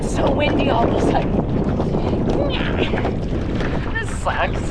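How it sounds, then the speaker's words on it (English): Loud, continuous wind buffets the microphone in a dense roar, with faint voices blurred underneath. "it's so windy all of a sudden."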